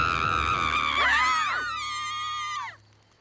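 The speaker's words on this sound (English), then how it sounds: "Becky Sue screams." A cartoon girl lets out a loud, high, wavering scream in a kids' animated horse show, rising and sliding in pitch over about two seconds before cutting off sharply into quiet.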